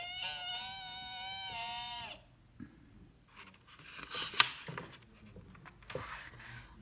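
A voice imitates the screech of car brakes in a quick stop: a sustained, harmonic high-pitched squeal lasting about two seconds, followed by quieter broadband hissy and scraping noises with a few sharp bursts.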